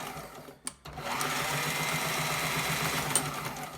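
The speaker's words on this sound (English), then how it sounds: "we're going to back stitch it" A sewing machine runs steadily while back-stitching a CPAP neck strap, with a brief pause and click near the start followed by a continuous close, even mechanical whir, no speech.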